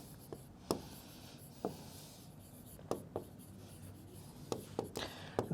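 A marker writes on a board during a maths lesson in a series of close, scratchy strokes and squeaky taps, with short pauses between words.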